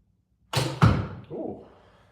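An arrow shot from a bow outdoors lands with a sharp close thud, followed by a softer second impact and a brief fading rattle.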